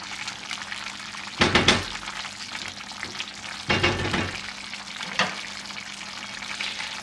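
Greek rice and cabbage being stirred in a pot, with three short, close scraping and sizzling bursts spaced a few seconds apart over a low background of simmering.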